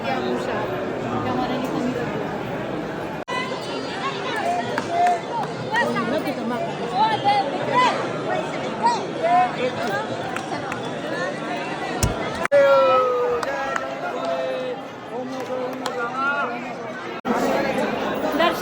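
Crowd waiting in the darshan queue at Ujjain's Mahakal temple, a constant murmur of many overlapping voices nearby, with a few louder nearby speakers and occasional sharp knocks breaking through the hum.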